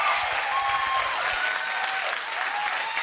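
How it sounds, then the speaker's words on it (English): Church congregation applauding in a sustained, steady burst of hand claps that fills the room, close and fairly loud throughout with no talking over it. "Give the elder family a hand clap of praise."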